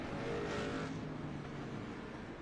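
Stock cars from an iRacing Street Stock Showdown league race at Southern National rumble steadily as the field runs down the back straightaway, a continuous dense engine drone with no voices over it.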